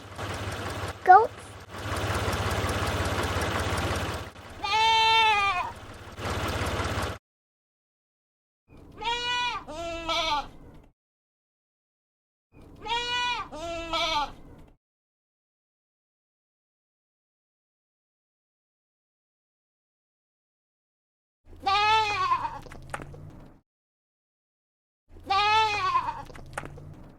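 Goats bleating in a series of loud, close, wavering calls, several separate bleats spaced apart with silent gaps between them, opening with a brief burst of other noise.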